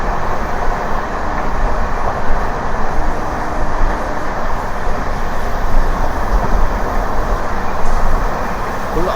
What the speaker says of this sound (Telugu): మా ట్రైన్ కర్వ్ అయితే చూసుకోవచ్చు